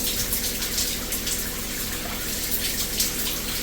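Steady, strong stream of water from a shower with a heater spraying continuously, a dense hiss with no pauses and no voices.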